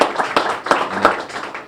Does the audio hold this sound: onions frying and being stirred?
no